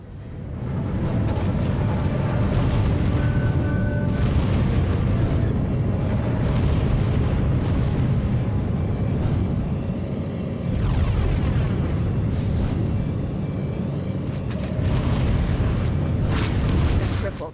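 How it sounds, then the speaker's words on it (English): Heavy, continuous booming explosions from enemy missiles in a naval combat video game, dense low rumbles and repeated blasts filling the whole stretch with faint voices underneath. "Enemy missile, evasive action."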